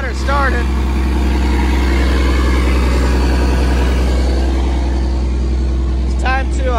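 An old Mack truck's diesel engine idles steadily just after starting, a deep, loud, constant rumble that runs throughout, with brief voices at the beginning and end.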